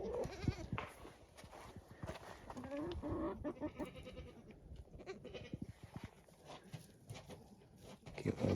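A newborn baby goat, born the day before and outside for the first time, bleats softly amid close rustling and handling noise on a snowy homestead.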